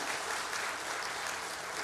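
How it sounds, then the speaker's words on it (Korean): Steady, even applause from a church congregation at a Sunday worship service during Advent, a continuous dense patter of many hands filling the whole short stretch. "수고한 청년부에게 박수 한번 할까요?"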